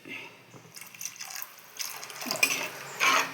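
Water poured from a glass into a pan of chilli-based kilimeen (threadfin bream) fish curry with salt: a soft splashing trickle in a few short bursts, growing a little louder and fuller toward the end, close and alone.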